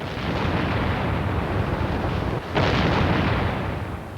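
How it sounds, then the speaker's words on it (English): German artillery barrage firing on the Western Front in 1918, a dense, continuous roar of heavy guns with a sudden louder surge midway, sustained and booming without any speech. "German artillery began firing"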